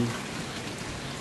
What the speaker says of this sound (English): The rain eased up.